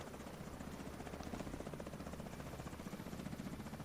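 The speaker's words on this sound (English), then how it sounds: "Enemy helicopter approaching." An enemy helicopter approaching in the video game The Division 2, its rotor thumping in a steady, rapid beat as a continuous mid-level drone throughout, with no voices over it.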